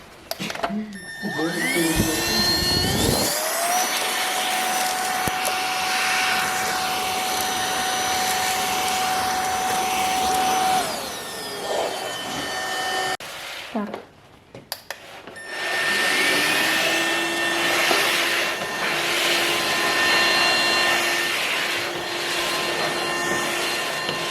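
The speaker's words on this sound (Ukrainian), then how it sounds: "воно миє і є ще як пилосос" A robot vacuum cleaner with a mopping function hums steadily and loudly close by, its motor whine shifting pitch partway through, with a short dip before it resumes.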